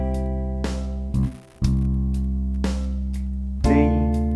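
Electric bass plays a simple chord progression, deep sustained notes changing every second or so with one brief dip, close and clear with no talking.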